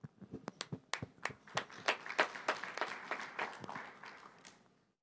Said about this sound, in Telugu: అంటే మీకు అర్థమై చప్పట్లు కొడుతున్నారా, కొట్టాలని కొడుతున్నారా?